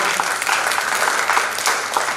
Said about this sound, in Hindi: प्रेमचंद के लिए जोरदार ताली बजा दें आप